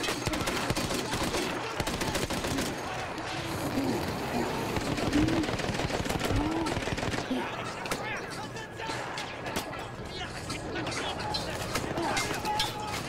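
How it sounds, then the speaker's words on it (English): Guns fire in Battlefield 1 in a dense battlefield din, with rapid overlapping shots and bursts running throughout at steady loudness while someone talks over them. "I'm just having fun shooting and looting everything."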